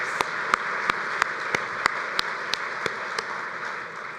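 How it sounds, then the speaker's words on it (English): Convention audience at a bowling association annual meeting applauding, a steady broad wash of clapping with sharp individual claps standing out at a regular pace, moderately loud and sustained throughout, no talking. "Let's give Kevin a big round of applause for all his efforts for us on behalf of trying to get in the Olympics."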